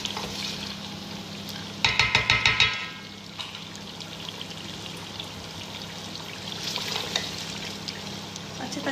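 Chicken and onions fry in a pan for nihari with a steady sizzle throughout and a short burst of stirring and scraping clatter near the start.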